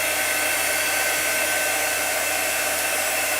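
A hair dryer blows steadily and loudly at close range, drying wet chalk paint in one continuous, unbroken whoosh with no talking.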